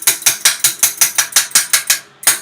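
A Huffy bicycle part is tapped into place: about a dozen sharp, evenly spaced metallic clicks in a quick rhythm, close and clear, with one brief pause near the end and no voices.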